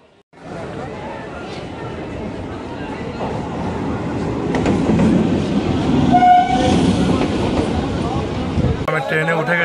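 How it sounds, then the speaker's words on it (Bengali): A Gede local passenger train pulls into Ranaghat station, its rumble swelling steadily with a brief horn or squeal partway through, heard over platform bustle and voices. "এখন গেদে লোকাল আসছে, ওটা ধরে আমি এখন গেদের দিকে যাবো।"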